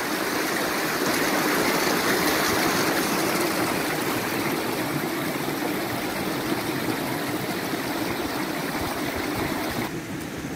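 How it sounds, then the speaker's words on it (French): A small waterfall cascading down a steep stream in the woods, a dense, constant rushing and splashing roar that stays loud and even throughout, with no voices. "Mini cascade."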